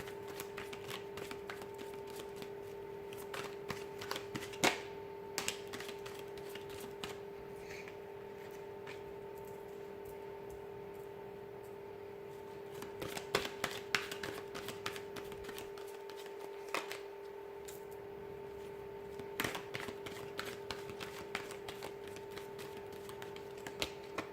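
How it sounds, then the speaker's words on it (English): A deck of tarot cards is shuffled by hand in a quiet room, giving soft, close riffles and taps in irregular bursts throughout, with no talking. "I'm going to go ahead and give the cards a shuffle here"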